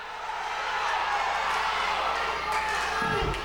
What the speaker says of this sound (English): And he heard that crowd yell